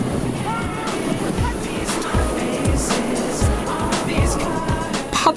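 Rough ocean waves slapping around a small fishing boat, a continuous near rush of wind and water with repeated low thuds as the hull hits the swell.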